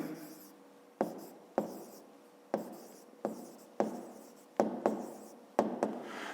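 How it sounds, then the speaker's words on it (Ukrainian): Pen writing out the answer to a fifth-grade math exercise, close and quiet, a steady scratching rasp broken by about nine sharp taps as the pen lifts and strikes the page. "Пишемо тоді відповідь"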